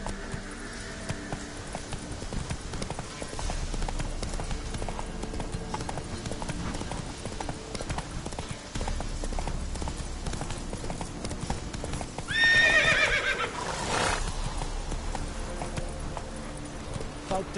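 Hooves of the horse in The Witcher 3 video game pound in a steady galloping clip-clop, with a brief whinny partway through, under game music and ambient sound, while a voice talks at times.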